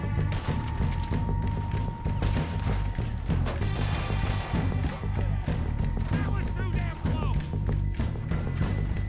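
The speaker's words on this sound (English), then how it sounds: "Where are you shooting at, guys?" Gunfire during a train heist in Red Dead Redemption 2, a dense run of repeated shots and impacts that continues under game music and a speaking voice.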